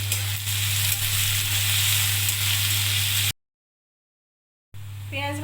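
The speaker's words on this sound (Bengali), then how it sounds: "পেঁয়াজ ভাজা হয়ে গেছে" Chopped onions salted and frying in oil hiss in a constant loud sizzle over a low hum, then drop to silence and return briefly with a faint voice.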